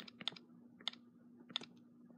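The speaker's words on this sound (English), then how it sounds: "Five hours of typing later." Computer keyboard typing, a few quick bursts of clicky keystrokes spaced about every half second over a faint steady hum, close and fairly quiet.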